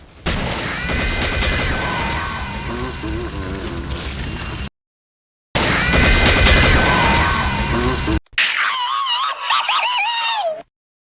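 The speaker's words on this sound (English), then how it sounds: "They scream, damaging your health while ignoring your armor." Shrill, wavering screams of the Siren enemy in the video game Killing Floor, loud and sustained in two long bursts separated by a brief gap, followed by a thinner warbling cry with gunfire-like crackle throughout.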